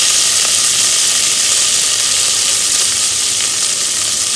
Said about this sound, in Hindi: सब कुछ एक साथ डाल के मैं इसको भूनूंगी अभी